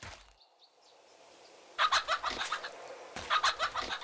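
A chicken in the video game 7 Days to Die clucks and squawks in two bursts of rapid, close, fairly loud calls after a quiet stretch.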